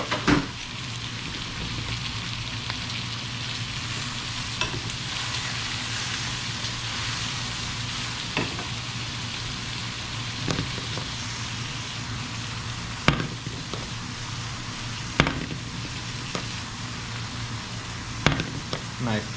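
Gnocchi frying in butter in a pan, giving a steady, close sizzle that runs throughout with occasional sharper crackles and pops.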